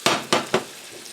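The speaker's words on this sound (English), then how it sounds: "My sausage is cooking all right now." Hot Italian sausage frying in a pan, three quick loud sizzling bursts like pieces being stirred or turned, each fading fast, close up and with no one talking.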